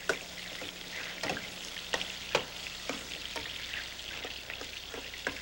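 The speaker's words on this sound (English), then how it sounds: "And stir that." Onions and wine vinegar stirred in a hot, sizzling pot, a continuous fry hiss broken by scattered spoon scrapes and taps, close and soft.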